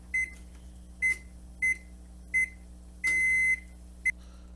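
A kitchen oven beeps as its temperature is set lower to 350, giving six crisp electronic beeps, evenly spaced and alone, with one held longer tone near the end before a final short chirp.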